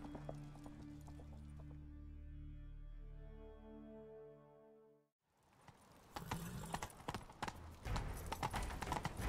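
Sustained musical tones fade out, then rapid horse hoofbeats gallop in, close and steady, from a horse in The Witcher 3 video game.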